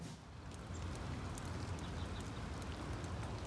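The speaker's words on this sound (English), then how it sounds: "It is a rainy day out there today." Steady rain falls outdoors on a rainy day, a soft, constant patter of drops on surfaces with faint scattered ticks, heard from a little distance without voices.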